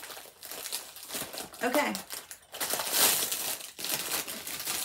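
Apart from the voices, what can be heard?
unwrapping a tightly wrapped package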